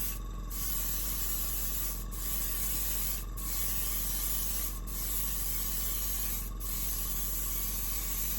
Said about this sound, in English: I pleated it and now I'm airbrushing it